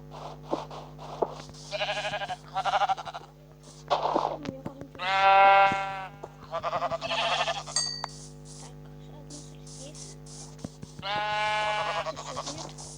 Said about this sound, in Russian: Иди сюда, овца, тупая овца.